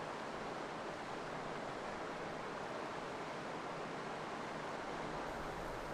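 Wildebeest herd swimming across the Mara River in the Serengeti, a wide, rough river over 30 m across, with a steady, dense roar of rushing water that stays loud and unbroken throughout.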